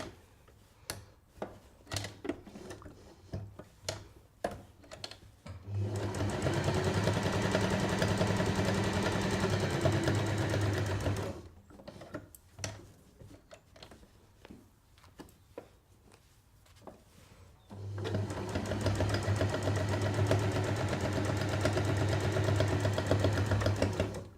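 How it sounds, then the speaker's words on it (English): A sewing machine stitches fabric for reusable kitchen towels in two long, steady motor runs, separated by a pause filled with light clicks and handling noises. "when it goes through the sewing machine it doesn't get rucked up inside"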